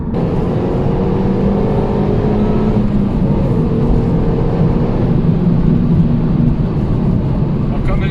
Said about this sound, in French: il y a une petite mélodie quand même qui est là. Après on entend aussi un petit peu le turbo hein, qui souffle